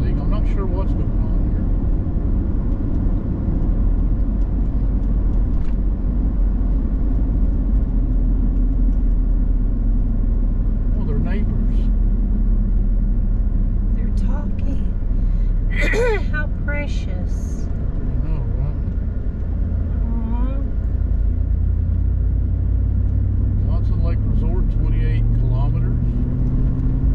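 Truck driving on a road in Canada, a steady low engine rumble and road noise running continuously throughout, with a brief louder passing noise midway.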